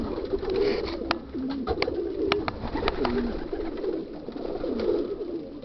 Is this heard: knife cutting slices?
no